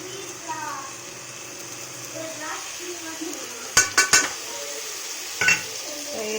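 Curd is mixed into fried food in a metal pan: a faint background sizzle, then a quick run of sharp clinks and scrapes from the spoon against the pan, with a voice talking over part of it.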